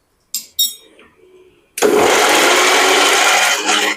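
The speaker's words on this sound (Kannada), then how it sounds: "ಇವಾಗ ಇದನ್ನ ಮಿಕ್ಸಿಗೆ ಹಾಕ್ಕೋಬೇಕು." A mixer grinder roars to life after a few small clinks, coarsely grinding raw mango for gojju in a loud, continuous whir that runs to the end.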